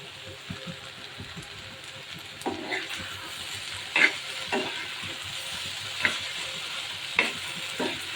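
Sliced onions fry into crisp beresta in a pan, giving a soft continuous sizzle punctuated by several sharper scrapes and clinks as they are stirred.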